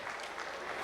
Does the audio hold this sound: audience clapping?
yes